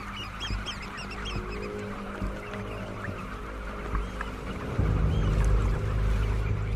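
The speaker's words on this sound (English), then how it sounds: "Eider ducks." Eider ducks call repeatedly in a noisy outdoor scene, their honking cries layered over a steady low rumble that swells louder toward the end.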